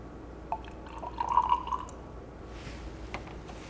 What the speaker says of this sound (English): the glycerin is really thick, so I make sure I let it all run out